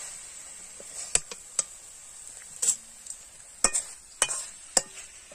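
A coconut mixture being stirred in a pan, with a soft sizzle beneath and sharp scraping clinks of the utensil at irregular intervals, quiet and close.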